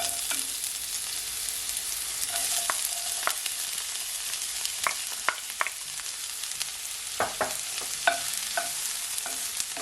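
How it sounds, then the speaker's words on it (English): Chopped onions sizzling in olive oil in a pot on a stovetop, a constant bright crackle with scattered stirring scrapes and pops, close and steady, no talking. "So now I'm gonna add my onions"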